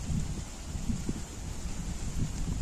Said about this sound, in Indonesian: di sini cuaca angin lagi kencang